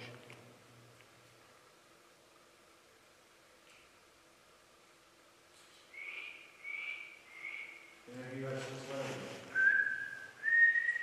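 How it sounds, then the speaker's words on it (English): Whistle-like tones sound inside a disused tunnel at night: a short series of three rising notes, then after a brief low murmur two longer, sustained whistles, all fairly faint against a quiet, hollow background. "So we heard a whistle."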